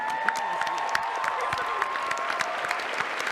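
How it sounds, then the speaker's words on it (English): Sustained applause and some cheering from a convention panel audience greeting an actor, steady and dense throughout with crisp individual claps standing out, no talking over it. "A big round of applause for Brett Dalton."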